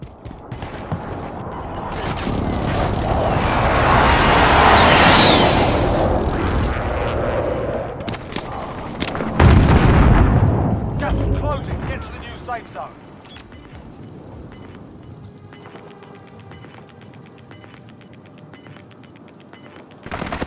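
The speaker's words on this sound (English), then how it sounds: "Be advised, friendly precision airstrike inbound." Call of Duty: Modern Warfare airstrike. Heavy rumbling explosions and bursts of gunfire build and peak, then one deep boom lands and fades into quieter mechanical game noise, with radio-style voices talking over it.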